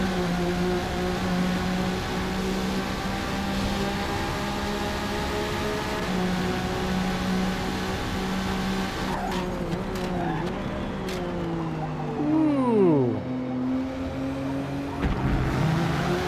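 A V6 Toyota Supra MK3 in a racing video game drones steadily through a long pull, its engine note holding and then shifting pitch near the end as the car changes speed, with a few sharp ticks and brief tire noise.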